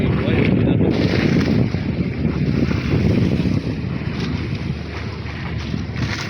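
A small boat out on the open sea, with steady wind buffeting the microphone and a constant broadband rush of engine, water and waves throughout, close and loud.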